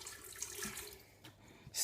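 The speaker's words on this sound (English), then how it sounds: "I'm going to add a bit of water first" Water trickles into a Morphy Richards soup maker jug for about two seconds, a steady splashing pour with no talking over it.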